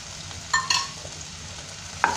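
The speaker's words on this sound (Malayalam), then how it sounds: "ഉള്ളി നന്നായിട്ട് വഴണ്ട് വന്നിട്ടുണ്ട്" Onions, green chillies, ginger and garlic sautéing in a pan over medium flame for aloo paratha filling, with a steady close sizzle and a few sharp scrape-and-stir clicks, no talk.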